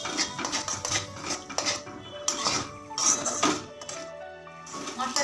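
A spoon or spatula stirs and scrapes spice masala in a metal pan, giving a close, irregular clatter of scraping and clinking.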